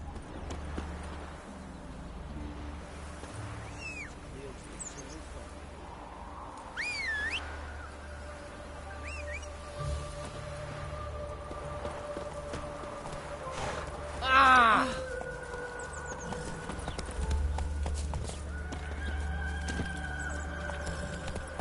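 Roach, a horse in The Witcher 3: Wild Hunt, moves with steady hoof clops amid ambient game sound, with faint whistle-like bird calls and a brief louder burst near the middle; a voice talks over it.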